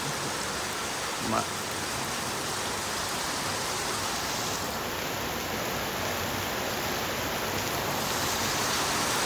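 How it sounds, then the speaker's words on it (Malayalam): Heavy rain pours outdoors at an early-morning home in hilly country, a dense, constant hiss that fills the whole clip without a break. "നല്ല മഴയാണ്."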